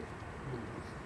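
Pigeons coo softly in a loft in Aigaleo, a few low, murmuring calls under a dense, noisy background, with no clear talk.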